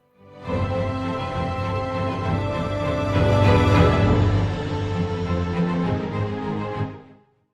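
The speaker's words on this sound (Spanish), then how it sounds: "la música suena así como Harry Potter" Instrumental music with a full, sustained orchestral-style sound, swelling steadily from start to finish before fading out.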